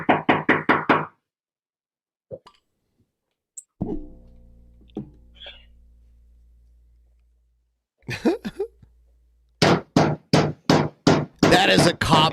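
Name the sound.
loud knocking on a door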